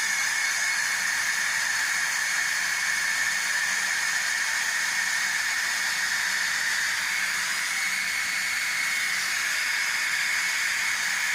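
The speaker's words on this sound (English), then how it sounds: "I'm using the high speed heat in order to melt my crayons" A hair dryer on high heat blowing across melting crayons gives a steady, close airy hiss that holds unbroken throughout, with no talking.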